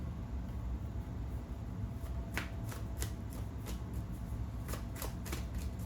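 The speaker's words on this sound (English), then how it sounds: "I'm shuffling, so that's why you probably can't" Tarot cards being shuffled by someone sitting cross-legged, a run of quick riffling and snapping bursts that grow denser toward the end over a steady background hiss.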